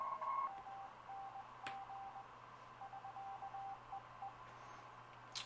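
Morse code from a German amateur radio station on the 40 meter band, a faint keyed tone beeping in short dots and dashes over steady receiver hiss.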